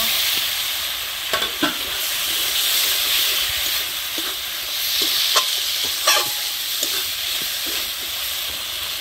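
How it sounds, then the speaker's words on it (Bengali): Tomatoes dropped into spice paste frying in oil, giving a steady close sizzle and hiss with scattered scraping clicks from stirring throughout. "মশলা কষানি হয়েছে, দেখেন বন্ধুরা মশলা থেকে তেল ছাড়ছে। এখন আমি টমেটো দিয়ে দিব।"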